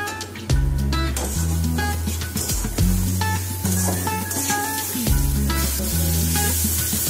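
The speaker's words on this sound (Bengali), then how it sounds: "মশলাটা কষিয়ে নেই" A spice paste of dried chilli powder, turmeric and coriander powder fries in a pan for a village-style curry, giving a steady sizzle broken by repeated scraping and clattering stirs and knocks of the utensil, close and loud.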